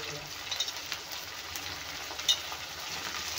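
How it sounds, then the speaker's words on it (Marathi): Green and purple eggplant fry in a pan with a soft, steady sizzle and a few light stirring clatters, fairly quiet throughout. "तर मी इथे आता वांगी घालणार आहे"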